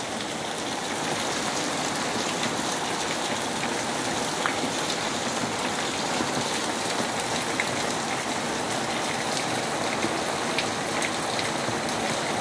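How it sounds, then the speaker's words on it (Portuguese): Heavy rain pours down in Fortaleza, Brazil, a steady, dense hiss of falling water and drops striking surfaces among city buildings, continuous and loud throughout with no talk. "60 dias que chove sem parar aqui."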